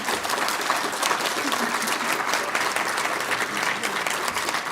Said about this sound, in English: let's get a round of applause for our panelists.